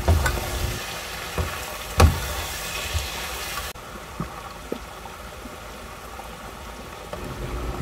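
Mushrooms sizzle in a frying pan while a utensil stirs them, giving a few sharp scrapes and knocks over a steady crackling fry that quietens partway through, with no talking.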